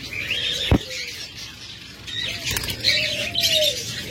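Pet lovebirds kept as breeding pairs call out in short chirps and squawks, with one sharp call near the start and more scattered calls toward the end, close by over a steady background hiss.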